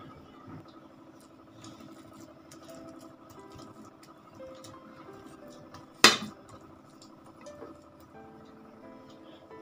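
Cooked dal being mashed on a metal plate with a hand masher, giving soft scraping and occasional clinks against the plate, with one sharp loud metallic clank partway through.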